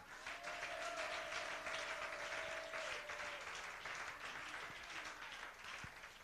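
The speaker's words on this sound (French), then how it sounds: "Est-ce qu'on peut acclamer le Seigneur pour ça?" A church congregation applauds steadily for several seconds, a dense wash of clapping that thins slightly toward the end, at moderate distance with no clear voices on top.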